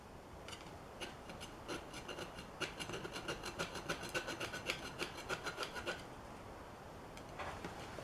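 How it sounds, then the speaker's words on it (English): Hand file rasping a small burr off metal on a Harbor Freight tubing roller being motorized, a run of close, rhythmic scraping strokes that quicken into regular passes, then stop. "I might be able to get it out with the file."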